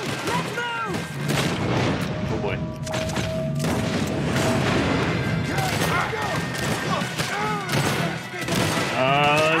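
Rapid bursts of gunfire crack through a Red Dead Redemption shootout at a prison, many shots close and loud in an uneven barrage, with voices heard between them.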